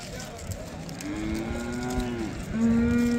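A cow lows in a long, drawn-out moo at a busy weekly livestock market, followed by a second rising bellow, with crowd noise in the background.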